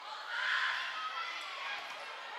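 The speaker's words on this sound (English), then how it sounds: "They got a big crowd here." A crowd of spectators in a school gym at a high school volleyball game between Westwood and Norwood, a steady distant roar of voices and cheering that swells briefly and then holds.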